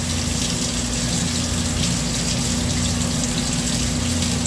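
Warm water runs steadily from a tap while a toy poodle is bathed, with a constant rushing hiss and a low pump-like hum, close and unbroken throughout.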